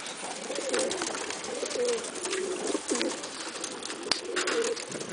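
Pigeons coo in soft, repeated low phrases, close by and fairly steady, with a faint background hiss and a single sharp click near the end.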